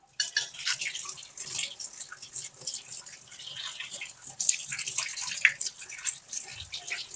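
Ridge gourd pieces are rinsed in water, giving soft splashing, dripping and trickling sounds that run continuously and quietly, close at hand.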